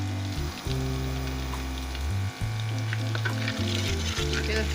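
Garlic and ginger paste sizzles and spits in a hot pan, steady frying crackle up close, with a low tonal hum shifting underneath.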